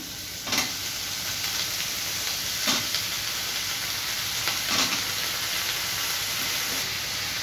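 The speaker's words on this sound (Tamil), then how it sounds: "எல்லாத்தையும் சேர்த்து நல்லா வதக்கி விட்டுக்கலாம்" Amaranth stems, onion and tomato sauté in a pan with a steady broadband sizzle, broken by three sharp scraping stirs spaced about two seconds apart, close and moderately loud, with no talking.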